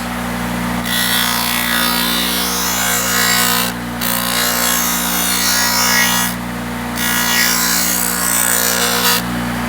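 A wood scraper's beveled surface is being sharpened, making a loud, close, continuous abrasive grinding over a steady machine hum, broken by three brief pauses between passes, with no talking.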